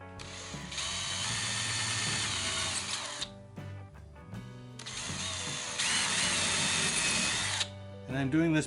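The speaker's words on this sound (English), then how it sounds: "I've recently found that drilling leather is way easier than trying to punch it." A power drill bores holes through leather for a belt, whirring loudly and steadily in two long runs with a brief pause between them.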